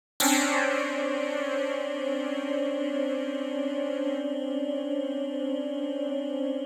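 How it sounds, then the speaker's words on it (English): A sustained dissonant chord of clustered close notes starts abruptly and holds steady, ringing with a slightly beating, uneasy tone. "my favorite type of chord, though, is what's called a cluster chord"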